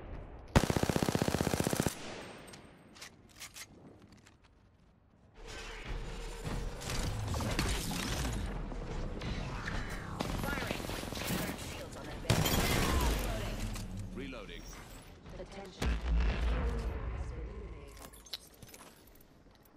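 Loud bursts of automatic weapon fire in the shooter Apex Legends, clattering between mechanical clicks and reload sounds, with quieter stretches in between and voices talking over the action.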